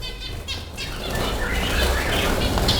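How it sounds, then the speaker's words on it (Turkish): Pet budgerigars flutter and flap their wings inside a cage, a close, busy burst of feathery whirring with faint chirps mixed in. "Elimi sokunca kafese hepsi aynı yere gidiyor."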